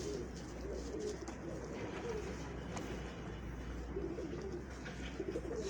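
Ghadi Mudi breed pigeons coo in soft, repeated low rolls in a loft, steady throughout with a faint background voice murmuring now and then.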